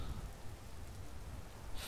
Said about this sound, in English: It is a rainy day in Whiterun.